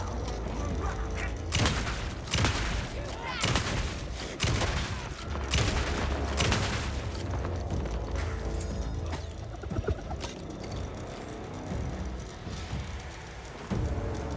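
Gunfire in the video game Alan Wake 2: a series of loud, sharp shots fired in irregular bursts over steady background noise, with no talking.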